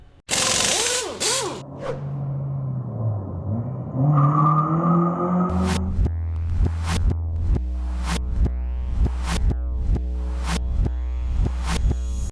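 A Honda EG fitted with a K-series engine swap runs roughly, with a whirring start-up, then a steady low idle broken by sharp periodic pops and stumbles that recur at irregular intervals, close by and loud.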